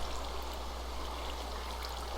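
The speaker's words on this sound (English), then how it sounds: "And now we have ourselves a 3x3 infinite source of water." Flowing water in the Minecraft modpack Agrarian Skies 2, a steady, even rushing like a small stream that stays constant and fairly quiet throughout, with no voices.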